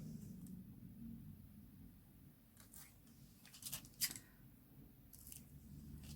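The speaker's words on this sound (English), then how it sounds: "I'm just going to snip the corners off." Scissors snip the corners off a sheet of foil in a few quiet, separate cuts, faint and close, with a low background rumble between them.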